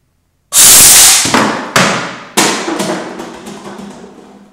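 Bottle rocket launching in a physics demonstration: a loud sudden whoosh and spray of gas, followed by several sharp thuds as it lands and bounces, close and without speech.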